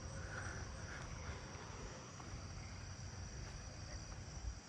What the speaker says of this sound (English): the four-spotted or pine tree cricket back there